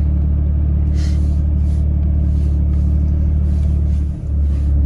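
Nissan Xterra engine idling after throttle body cleaning, a steady low rumble held at a constant level throughout, close to the engine with faint hiss above it and no talking.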